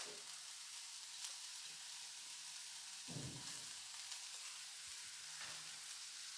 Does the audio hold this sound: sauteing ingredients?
yes